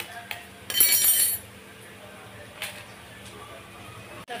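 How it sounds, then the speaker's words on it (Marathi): An egg cracks against a kitchen dish while egg bhurji is cooked, a short sharp knock followed by light glassy clinks, then quiet kitchen background with a few small taps. "मी अंडा फोडून घेते"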